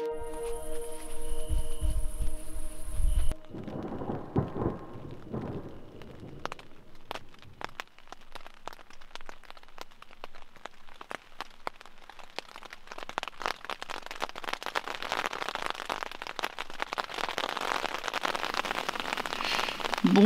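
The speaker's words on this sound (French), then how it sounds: "On a eu le droit à l'orage à partir de 3 h du matin, vent, pluie, tout ce qu'il faut" Rain patters steadily on a tent at night during a thunderstorm, a dense close crackle that builds from sparse drops to a constant hiss, following an opening stretch of other sounds.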